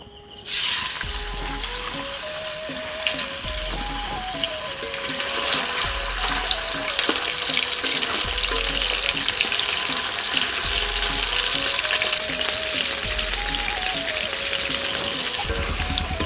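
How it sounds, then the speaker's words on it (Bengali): Shrimp drop into hot oil in a wok and fry with a continuous loud sizzle and crackle. A soft tonal melody runs underneath and low thumps recur regularly, with no speech. "আমি প্রথমে কড়াতে তেল দিয়ে দিচ্ছি আর এখন এই চিংড়ি মাছগুলো উঠিয়ে দিচ্ছি"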